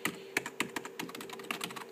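Typing on a Logitech K120 rubber dome keyboard: a quick irregular run of soft, muffled key presses close to the microphone, with a few sharper taps standing out, alone without talk.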